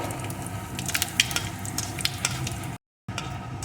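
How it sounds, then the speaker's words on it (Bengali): Dry red chili and panch phoron crackle and sizzle in hot mustard oil, a close, steady frying hiss with sharp popping spits throughout and a brief dropout near the end. "তেলটা গরম হয়ে যাওয়ার পর আমি দিয়ে দেবো একটা শুকনো লঙ্কা একটু পাঁচ ফোড়ন এখন ফোড়নটা একটু ভেজে নেব"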